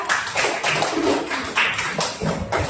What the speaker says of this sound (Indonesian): Tepuk tangan dulu untuk berdua.